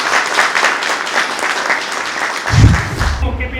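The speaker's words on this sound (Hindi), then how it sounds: "चलिए तालियों के साथ।" Applause at a Raksha Bandhan gathering with soldiers, dense continuous clapping from a crowd, followed by a brief low thump near the end.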